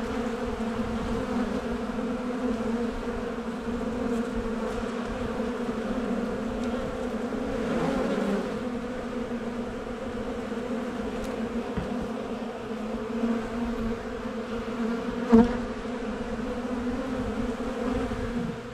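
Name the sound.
honeybees fighting on a hive comb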